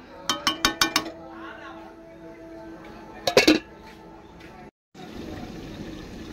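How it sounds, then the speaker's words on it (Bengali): A cooking pot of Gondhoraj lemon-chilli chicken on a medium gas flame gets its metal lid: a few quick light clinks early on, then a brighter cluster of metallic clatter as the lid settles, with soft kitchen background between. "আমি এখন ঢাকা দিয়ে দেব।"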